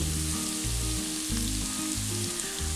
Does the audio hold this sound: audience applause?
no